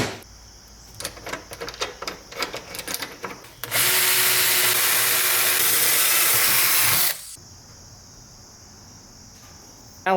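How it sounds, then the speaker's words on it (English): Power drill boring a hole through a block with a 1/8 inch bit: a few short clicking and whirring starts, then a steady, loud high whine for about three seconds before stopping. "Let's start by drilling a hole this way through the block, and we're going to use our 1/8 inch drill bit"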